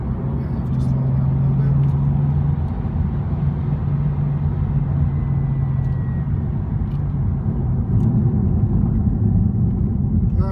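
A 2015 BMW M4, not in sport mode, cruises briskly along a road, its engine drone and tire rumble holding loud and steady throughout with a slight lift near the end.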